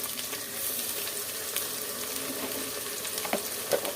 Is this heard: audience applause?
no